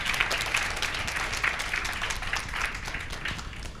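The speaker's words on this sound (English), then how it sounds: "Round of applause." Applause from a conference audience after a programming-languages talk, a dense steady patter of many hands at moderate level, sustained throughout.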